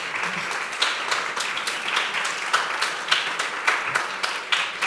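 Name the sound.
audience applause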